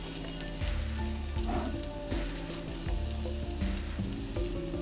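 Papaya paturi sizzles in a pan while a spoon stirs it in repeated scraping strokes over a constant frying hiss, close and clear, with no talking.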